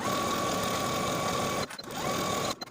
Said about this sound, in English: Stitch this center front edge with a 5/8 inch seam allowance.